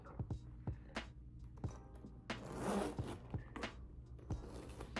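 Zipper sliding on a Louis Vuitton Paris handbag with double zippers at the top, a series of short close rasping pulls with soft handling rustles between them.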